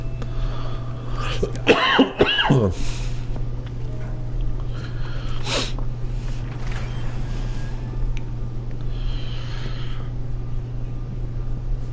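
A man with a lingering cough lets out a short burst of several harsh coughs near the microphone, then quiet room tone with a steady hum and faint creaks from a video game playing in the background.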